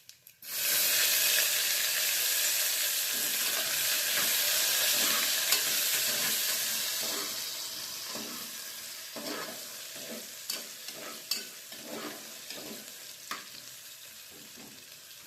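Onions hit a hot pan with a sudden loud sizzle that holds steady, then softens while spatula stirs scrape and tap through the hiss.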